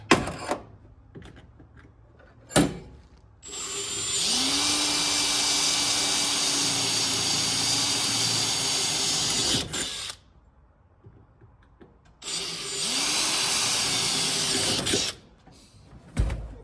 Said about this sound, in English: See if I can drill it out from here